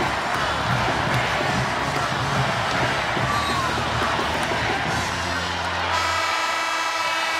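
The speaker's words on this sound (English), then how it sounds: "Nebraska fans cheering on the Louisville Cardinals" Nebraska crowd at the NCAA women's volleyball championship, Louisville versus Texas, cheering on the Louisville Cardinals: a loud, continuous arena roar of voices and whoops that holds steady throughout, then thins slightly near the end.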